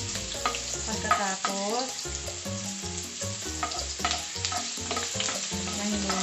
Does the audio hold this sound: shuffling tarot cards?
no